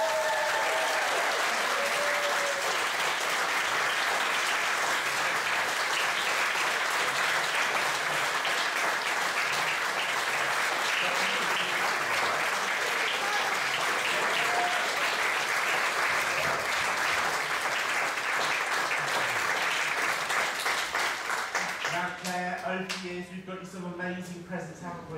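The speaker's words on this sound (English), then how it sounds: "could you give a round of applause please to Claire Freeman" An audience at a Treasure Island event gives Claire Freeman a long round of applause, loud, dense clapping sustained for over twenty seconds before fading out as a voice begins speaking.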